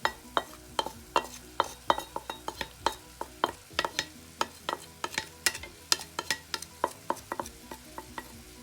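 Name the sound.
basil and garlic frying and stirred in pan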